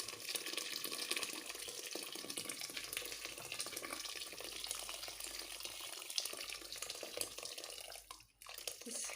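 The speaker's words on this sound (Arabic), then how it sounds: "غادي نزيد لها شويه ديال الماء. الماء يكون سخون، نزيد لها واحد لتر ديال الماء." Hot water pours steadily into a pot of vegetable and seafood soup, a continuous close splashing stream that fills nearly the whole stretch and briefly dips near the end.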